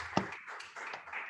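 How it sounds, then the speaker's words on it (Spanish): Short burst of audience applause at a conference for Armando Zerolo, a brief, fairly soft patter of clapping with one sharper clap near the start. "antes de irnos le damos otro aplauso a Armando"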